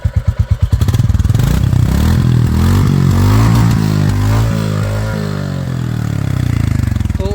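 A 2024 Royal Enfield Classic 350 thumps at idle, then is revved, its engine note rising and falling in loud waves before easing back toward a steady exhaust beat, close up and without speech.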